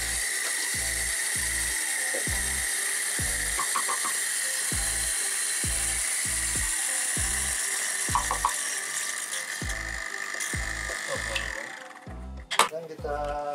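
Coffee beans ground in a coffee shop grinder: a steady, loud mechanical whir with a high whine and a rapid, regular low pulsing, running for most of the time before ending in a few clunks and rattles.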